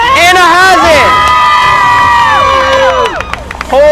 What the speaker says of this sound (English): Whole crew is cheering for her.